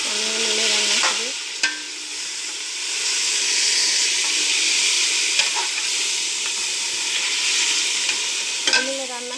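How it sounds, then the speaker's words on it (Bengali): Goat meat hits a hot pan with cardamom, black pepper and cumin, giving a loud, close, continuous sizzle and hiss with bursts of stirring scrapes, and a faint tonal hum in the background. "এখন দিব খাসির গোশ।"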